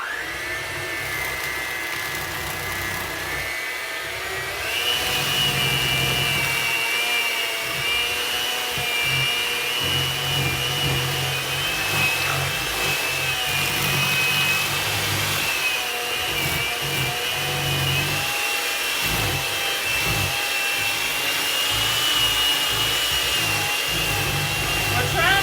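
An electric hand mixer beating pumpkin cheesecake batter with vanilla in a bowl, a steady loud motor whir with a pitch shift a few seconds in, running continuously throughout with no talking.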